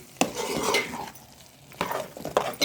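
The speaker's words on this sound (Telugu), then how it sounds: "ఒకసారి అంతా కలిసేలా కలుపుకోవాలి. అంతా చక్కగా కలిసేలాగా కూరకు పట్టేలా కలుపుకోవాలి." Chicken gongura curry being stirred in a pan, with spoon scrapes and clinks against the metal over a faint sizzle, louder bursts near the start and end.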